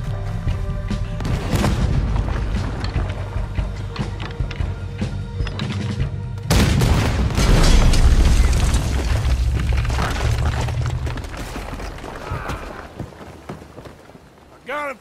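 Deep booming cannon blasts and rumbling impacts fill a noisy game battle, with voices talking and shouting over the continuous din.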